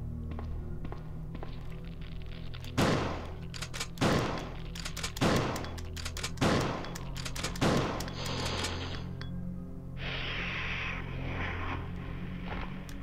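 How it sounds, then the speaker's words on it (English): Shotgun blasts in Resident Evil 2 against plant monsters, five loud evenly spaced booming shots roughly a second apart, followed by a brief rattling mechanical burst. "I wish I didn't have to use my shotgun"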